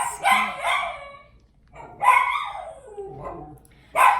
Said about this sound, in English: First, we're gonna wait for Pepper to stop barking. She's my dog.